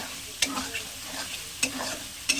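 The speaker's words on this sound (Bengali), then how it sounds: "আলুটা দিয়ে একটু নাড়াচাড়া কষিয়ে নিয়ে ভালো মতো করে" Potatoes being stirred and fried in a pan, three sharp spatula scrapes against the metal spaced across a continuous close sizzle.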